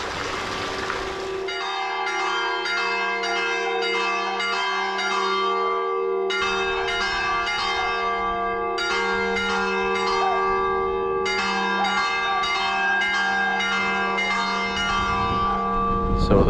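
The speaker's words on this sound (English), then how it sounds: "So the bells going off attracted us to this church here." Church bells in Crete ring steadily in a fast, repeating pattern of struck tones over a sustained hum, loud and clear throughout with no talk.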